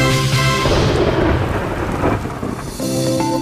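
Torrential downpour with thunder, a loud rolling rumble over the constant hiss of heavy rain, continuing throughout with no talking.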